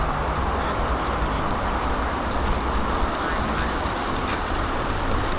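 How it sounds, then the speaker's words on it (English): Steady, loud rush of fast cars on a highway beside a nature trail, continuous and unbroken, with faint chirps of birds above it. "It's a highway, so cars are constant, going fast. It's loud."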